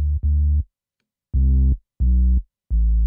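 Sub bass tone with Soundtoys saturation adding harmonics, played as four separate sustained notes in a short stop-start pattern, clean and fairly loud with silent gaps between them.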